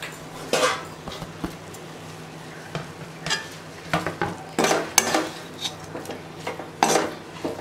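Grated coconut is stirred into a cooked manathakkali spinach stir-fry in a pan, giving repeated spoon scrapes and metallic clinks against the pan over a faint sizzle, irregular and close, with no talking.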